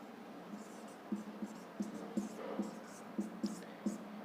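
Pen or pencil writing Hindi words by hand on paper, a quiet scratching with a run of light, evenly spaced strokes and taps close by, with no talking.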